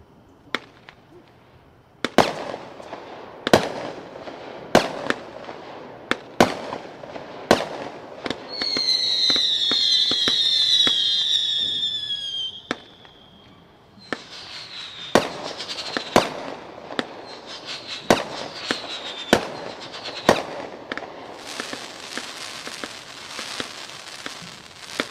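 Spirit of '76 Mobile Menace consumer fireworks cake at an expo demo: a rapid series of sharp outdoor shot reports, with a stretch of whistling, screaming effects in the middle and crackling bursts toward the end.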